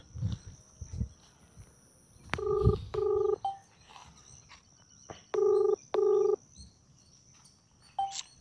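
Two pairs of steady electronic tones sound like a phone ringing back over a quiet outdoor background at a plant nursery with faint chirps.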